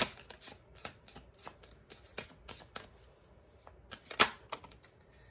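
Tarot cards are shuffled by hand in quick, crisp riffling bursts with short pauses between them, close and fairly quiet, with no voices.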